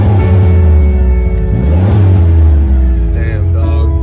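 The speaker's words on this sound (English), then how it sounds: "Let's just give her one more rev for the people." A car called the boat car revs loudly and steadily, its deep engine rumble rising and falling over about four seconds while people talk over it, rain falling outdoors.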